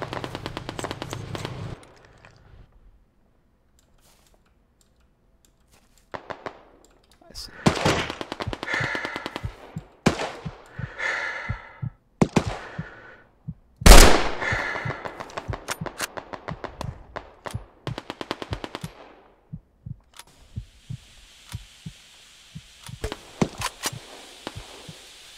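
Gunfire rings out in the WWII shooter Hell Let Loose during beta sniper gameplay, with loud, sharp shots and rapid bursts scattered over about twenty seconds, some close and some more distant, with no talk.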